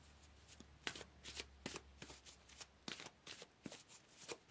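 Tarot cards are shuffled in a quick, crisp series of riffling bursts and soft slaps, close and quiet, repeating irregularly with no talking.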